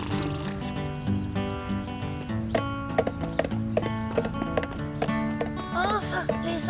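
Horse hooves clip-clopping in a steady rhythmic series over music, followed by a whinny near the end, all fairly close, with a cartoon soundtrack and some voices around.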